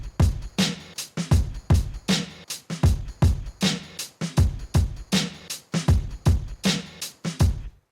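A programmed hip-hop drum pattern plays alone. Punchy kicks and snares fall in a steady, looping rhythm with short gaps between hits, close and clear.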